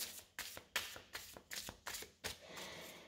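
Tarot cards being shuffled by hand in a run of crisp riffling bursts, about six quick papery flurries close up, with no voices.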